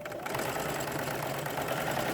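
A sewing machine stitches steadily around a fabric face mask, a continuous close mechanical whir with a fine rapid rhythm and no pauses.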